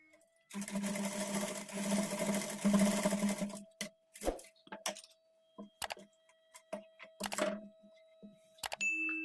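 Sewing machine stitching a designer front-slit kurti; one sustained burst of close, rapid mechanical whirring, then a series of short stop-start runs and clicks with quiet gaps between.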